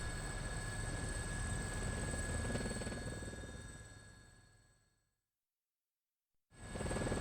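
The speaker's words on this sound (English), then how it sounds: "The helicopter leans more sharply as Kikuno-san speaks." Helicopter flying in the video game Persona 4 Arena Ultimax, a steady droning engine and rotor hum with a high whine that fades out, cuts to silence, then returns abruptly.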